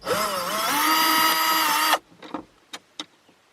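Cordless power driver fitted with a T20 bit backing out Torx screws on a 2008 Ford Mondeo's dashboard, a loud whirring motor burst of about two seconds, followed by a few light plastic clicks and taps.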